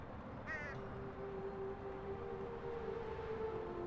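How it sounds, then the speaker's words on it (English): A single short caw from a crow in the Elroy & the Aliens video game, heard over a steady low background hum. "Let's get rid of that bird."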